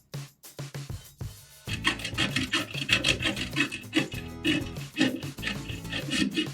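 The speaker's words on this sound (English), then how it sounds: "What I'm gonna do is that I'm gonna grate this." A small block of coconut-milk-based vegan Parmesan-style cheese is rubbed over a grater, starting with a few hesitant scrapes and then settling into fast, close, rhythmic rasping strokes, with no speech.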